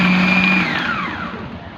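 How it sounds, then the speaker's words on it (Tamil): A mixer grinder jar whirs loudly while grinding garlic with egg white for homemade mayonnaise, a steady high whine that then winds down as the motor slows. "சாதாரண மிக்ஸி ஜாரில் செஞ்சாலே போதும்."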